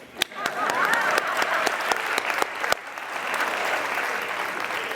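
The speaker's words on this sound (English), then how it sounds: "Let's clap it up for these 11 people." Audience applause at a business marketing talk, a dense steady wash of clapping from a room full of people with sharp individual claps standing out early, fading slightly toward the end.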